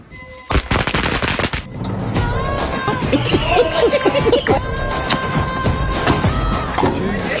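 Diwali firecrackers burst in a rapid crackling string, then give way to sustained loud popping and explosions, with faint voices in the background.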